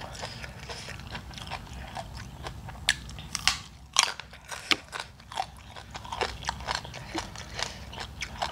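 Close, crunchy bites and steady chewing of Thai-style som tam papaya salad, with irregular crisp crunches clustering mid-way over a low background hum, no talking.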